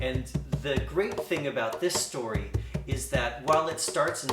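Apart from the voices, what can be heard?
No everyday noise stands out behind the speech.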